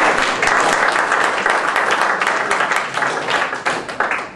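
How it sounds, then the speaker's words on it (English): A live audience claps and applauds loudly and steadily as a young woman comes up on stage, a dense sustained wave of clapping that begins to thin and break into separate claps near the end. "you're all going to give her a huge round of applause"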